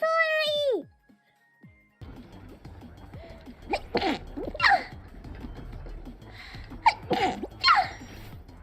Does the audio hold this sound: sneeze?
yes